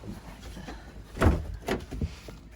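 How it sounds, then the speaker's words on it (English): Doors on a Sprinter camper van built out with 80/20 framing are opened, giving a heavy thunk followed by two lighter latch clunks, nearby and fairly quiet, with no talking. "I'll open the doors."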